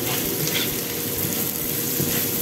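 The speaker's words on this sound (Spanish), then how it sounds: "Lo sofreímos todos juntos. Le añadimos un poquito de sal para que ayude a que la cebolla se poche." Onion sautéing with a little salt in a pan on a glass-ceramic hob at medium-high heat, giving a continuous close sizzle and crackle with no voices.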